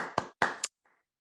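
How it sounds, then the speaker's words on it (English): Flamenco hand claps, a few sharp close claps in quick succession with a short pause between groups, followed by a faint softer tap, alone with no talk. "I'm gonna put you a little example so you listen that clapping a little bit faster"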